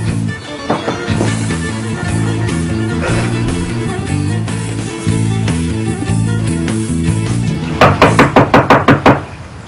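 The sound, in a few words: knocking on a door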